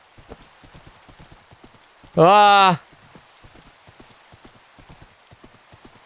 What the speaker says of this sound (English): A little touchy, this horse.